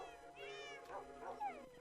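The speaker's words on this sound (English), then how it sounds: "And then I've got cats. I'm sure you heard those." Blocky Minecraft cats mewing in the game world, several short rising-and-falling meows overlapping one another against steady background music, with no talking.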